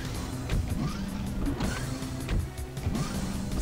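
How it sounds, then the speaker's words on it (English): Door opening effect in a Doom 2 game level, modded to resemble Duke Nukem 3D sounds: a mechanical grinding, whirring motor slide with several clunks and clicks, loud and close with no talk. "The opening sounds for Duke Nukem 3D specifically."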